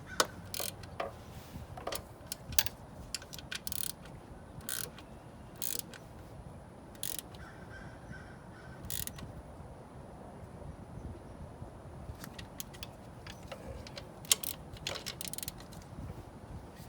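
Ratchet clicks in short irregular bursts as bolts on polyurethane engine mounts are tightened, fairly quiet over low workshop background noise.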